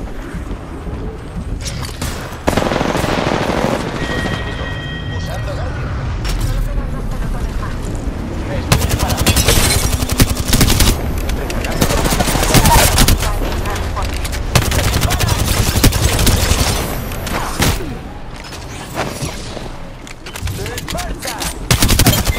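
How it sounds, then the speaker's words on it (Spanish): Dense gunfire from the Apex Legends video game rattles in rapid automatic bursts with booming impacts, loud and nearly continuous, mixed with game sounds. "Me disparan, amigos."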